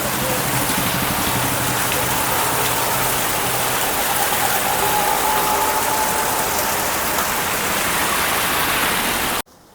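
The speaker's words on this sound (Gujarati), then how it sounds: "વરસાદ અત્યારે ધીમો પડવાની બદલે વધતો જાય છે" A heavy downpour roars in a constant, loud wash of rain on surfaces near a showroom for nearly ten seconds, then cuts off abruptly at the very end.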